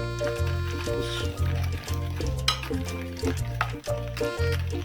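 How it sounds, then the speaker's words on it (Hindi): Mutton chop marinade of spice masala, lemon juice and vinegar being stirred together in a bowl, a close wet squishing and scraping that runs on with a steady hum underneath. "ये सिरका भी तकरीबन 1 चम्मच इसके अंदर डालना होता है। अभी इसको मिक्स करते हैं।"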